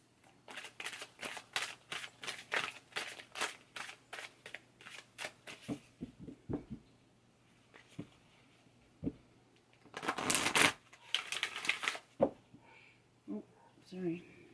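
Angel cards being shuffled, a close, crisp run of rapid rhythmic riffling snaps, pausing, then a burst of denser flutter, with a soft voice speaking between the shuffles.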